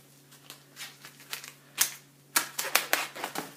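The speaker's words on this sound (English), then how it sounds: "We're going to zip right through this package." Kitchen shears snipping through a plastic grocery package, making a run of sharp crisp cuts and crinkles that grows louder and denser toward the end, close up with no talking.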